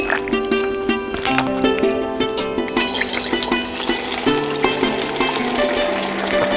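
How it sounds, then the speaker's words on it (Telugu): Mutton pieces frying in hot oil in a kadai give a steady, close sizzle for the whole stretch, with tonal background music over it. "ముందుగా మటన్ ఫ్రై చేసుకుంటున్నానండి"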